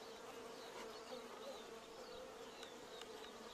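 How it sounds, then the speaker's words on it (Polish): A steady, dense buzzing of many honeybees close by at a hive fitted with a homemade pollen trap, continuous and unbroken, with no voices. "jak pszczoły zaczęły pracować"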